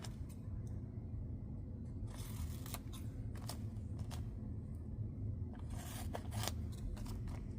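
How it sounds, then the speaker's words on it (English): Scissors trim the corners off a paper shadow box card, a few quick crisp snips in two small clusters over a steady low background rumble, close and fairly quiet, no voices. "So we're going to just trim the corners off."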